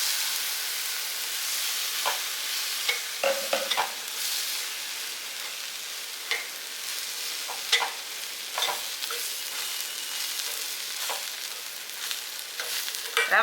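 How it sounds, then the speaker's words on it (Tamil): A cup of semolina for rava idli being roasted and stirred in a pan, a dry steady sizzle broken by frequent spoon scrapes and taps, close-up and moderately quiet with no voices. "இப்போ இந்த 1 கப் ரவையை இதிலே போட்டு நம்ம ரோஸ்ட்டாக வறுத்துக்கலாம்."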